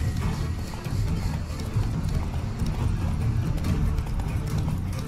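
Horse hooves clip-clop steadily in Witcher 3: Wild Hunt as a slightly lame horse moves along, a close, continuous patter of hoofbeats over low rumbling game ambience.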